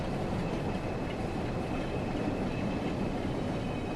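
Class 47 diesel locomotive hauling a long train of loaded HOA wagons in Train Sim World, a steady broad rumble of rolling stock and engine that runs on continuously with no talking.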